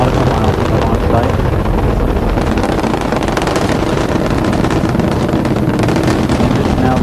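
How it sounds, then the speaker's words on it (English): Space Shuttle Endeavour's engines roar during launch on mission STS-49, a loud continuous broadband rumble with wind-like buffeting that holds steady throughout without pause. "Engine's now beginning to throttle back up."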